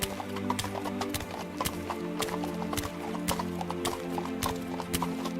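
A donkey's hooves clip-clop in a steady, even walking rhythm, clear and fairly close, as a sound effect with no voices heard.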